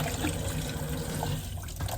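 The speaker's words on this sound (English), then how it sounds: "I'm going to rinse them one more time" Food for a steak and gravy dish is rinsed under a running kitchen tap, a steady close splash of water over a sink with no voices.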